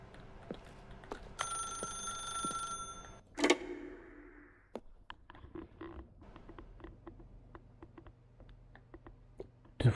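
An old-style bell telephone rings in a video game, a harmonic metallic trill repeating for a couple of seconds before a sharp knock and scattered clicks and creaks over a low background hum.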